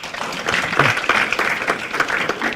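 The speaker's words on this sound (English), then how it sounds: "Give her a clap" Audience applause at a research repository launch event, a steady wash of many hands clapping that carries through the whole stretch at moderate loudness.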